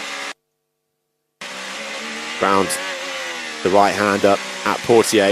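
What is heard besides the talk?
Formula 1 car engine racing at Monaco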